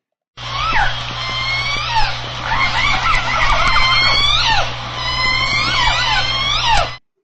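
Dense overlapping calls of J-pod orcas, whistles and squealing upward and downward sweeps, continuous and loud over a low steady underwater hum.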